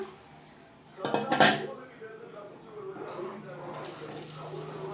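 Tamarind water splashes and pours into a pan with a clatter of cookware while making garlic pickle, followed by a soft, steady simmering hiss.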